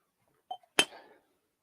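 A single bright clink of a whiskey glass raised in a toast, preceded by a soft tap, then a short ringing decay in an otherwise quiet room.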